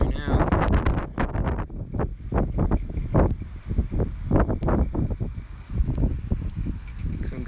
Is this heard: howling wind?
yes